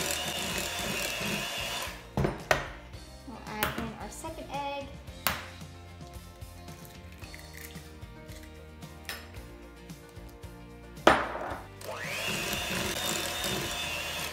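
An electric mixer beats egg into cream puff dough, whirring loudly at the start and end with clattering, rattling bursts in between as the beaters knock the bowl.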